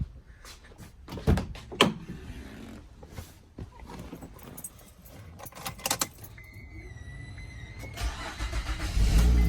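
An Acura MDX, previously cranking but not starting, gets keys jangling and a door thump nearby, then the engine cranks and catches, settling into a loud close idle.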